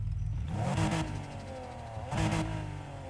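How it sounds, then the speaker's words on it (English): A tuned Nissan GT-R R35 engine in the racing game Need for Speed Heat revs twice in sharp, close bursts, rising and falling with a turbo-like whir, heard alone. "We do have a GTR engine from an R35. Unfortunately, no inline-6 swaps at all for this car. So if I turn it on"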